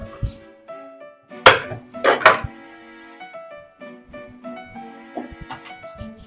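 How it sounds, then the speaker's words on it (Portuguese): A knife chops a garlic clove on a board in a few sharp, separate strikes, two or three close together, over a background of soft tonal music. "Inclusive vou cortar esse dente aqui."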